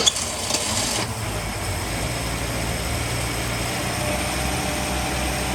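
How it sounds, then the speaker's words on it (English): A 1971 Ford Maverick six-cylinder engine cranks briefly, catches, then settles into a quiet, steady idle with a low even rumble. "And that is a quiet motor."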